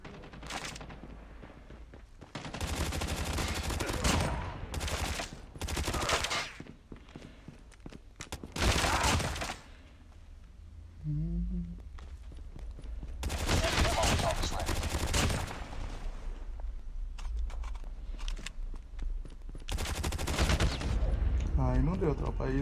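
Bursts of gunfire from a Call of Duty match, several loud clusters of rapid shots separated by short pauses, with footsteps and game sounds in between.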